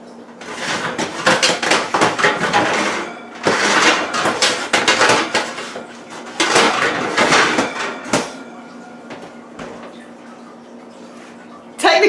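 Metal oven racks shifted up a level inside a home oven for drying orange slices: loud, close clanking and rattling in three long bursts, with short scrapes and knocks between them over a low hum.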